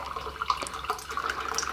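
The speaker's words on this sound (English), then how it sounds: "So I'm going to add my water at this point." Water poured into crepe batter in a home kitchen, a soft, steady trickle and splash close by, fairly quiet, with no one talking.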